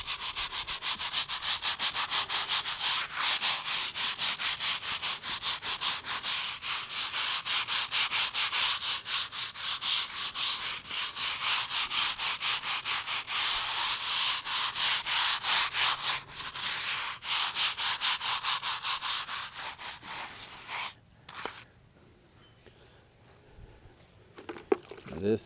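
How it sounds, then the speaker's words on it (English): A stiff brush scrubs the etched stone surface of a cemetery headstone in rapid back-and-forth strokes, close and continuous, falling to quieter scattered scrapes near the end. "now I'll get a little bit stiffer brush for these etched surfaces."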